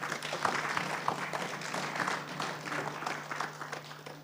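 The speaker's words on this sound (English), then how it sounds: "Can we clap for her again?" Audience at an IT congress applauding, a dense, steady wash of many hands clapping at moderate distance, with a low hum underneath and no clear talk.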